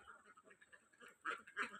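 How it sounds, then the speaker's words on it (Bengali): Farm laying ducks, let out in the morning, quack faintly in the distance, with two slightly louder bursts toward the end. "হাঁসগুলো খুবই ভালো"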